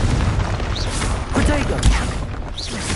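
A Confringo fire-blast spell explodes in the game Hogwarts Legacy, a deep booming burst amid rumbling combat effects and music, loud and close, with a second thump near the end.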